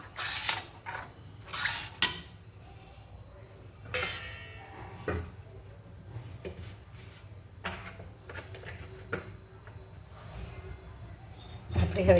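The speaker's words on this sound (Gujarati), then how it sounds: "ધીમા તાપે એને હલાવવાનું." Gujarati besan dish stirred in a pan over low heat, with intermittent metallic scrapes and clinks of a spoon against the pan spread across a quiet kitchen background.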